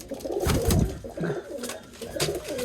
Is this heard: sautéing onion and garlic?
no